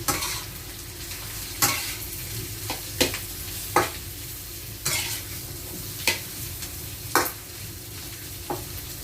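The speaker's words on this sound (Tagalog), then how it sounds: "So ayan, gisa-gisa lang po." Lechon stir-fried with bihon noodles in a pan, with a steady low sizzle broken by about ten sharp scrapes and clacks of the spatula at irregular intervals, close up and without talk.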